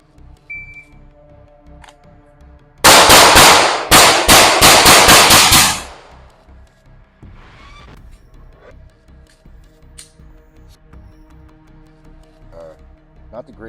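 Six pistol shots crack out in a quick timed drill, sharp loud reports bunched within about three seconds, followed by quieter range ambience and faint handling noises.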